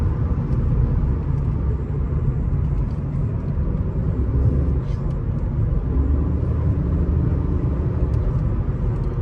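The twin-turbo V12 of a 2006 Mercedes CL600 with a failing transmission runs steadily as a low, continuous rumble lasting several seconds, loud and close with no break.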